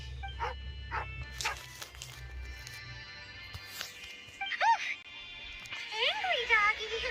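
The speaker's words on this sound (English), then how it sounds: "Siberian Husky." A Siberian Husky in Genshin Impact lets out several short, sharp barks and yips with rising whiny cries near the end, mid-loud over game background sounds and music.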